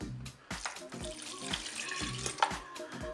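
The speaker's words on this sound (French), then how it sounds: "Et là maintenant je vais ajouter mon bouillon." Broth is poured into a Cookeo multicooker, giving a steady liquid splashing and trickling with uneven gurgles throughout.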